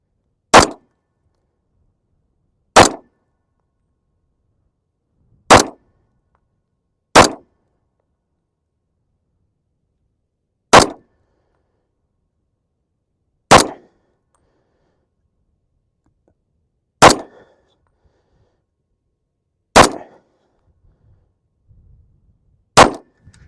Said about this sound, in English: we'll just see how the El Senor shoots